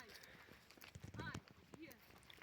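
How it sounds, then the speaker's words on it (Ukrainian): Hooves of a pair of horses clip-clopping as a rider stands across both of them, a quick uneven run of close thuds heard under someone talking. "так як їде зараз Наталка, стоячи на двох конях"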